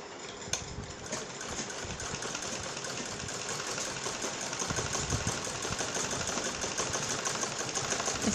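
A sewing machine runs steadily, its rapid mechanical chatter continuous and close while stitching fabric around a curved jhallar neckline.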